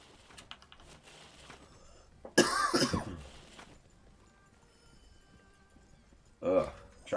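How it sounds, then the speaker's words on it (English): One dry cough bursts out suddenly and loudly near the mic, breaking up quiet background sound, with a second rough cough or throat-clear close to the end. "Try to kick this dry cough."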